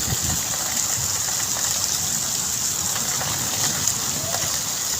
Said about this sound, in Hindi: ज़रा पानी देखे नीचे कितना जैसे दरिया बन गया